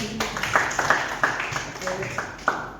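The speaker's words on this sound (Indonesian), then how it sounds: "Boleh kasih tepuk tangan untuk Tuhan." A congregation at a Christian youth dialogue gathering claps for God: a loose run of separate, fairly close claps rising over room murmur, without a full sustained ovation.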